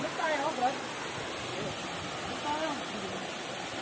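Waterfall number 1 of a series of thirteen falls in DRT, Bulacan pours as a steady, broadband rushing roar of falling water, with a voice or two talking faintly over it.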